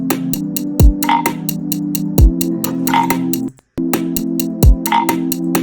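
Repeated frog croaks, loud and close, each a low burst in a steady rhythm over a droning background, with a brief silent gap partway through.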